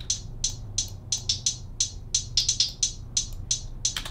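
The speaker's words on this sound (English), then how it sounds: "which is the main hi-hat, which sounds like this." Main hi-hat pattern in an FL Studio beat: crisp, bright hi-hat hits in a steady rhythm of about three per second with a few quick doubled hits, loud and alone.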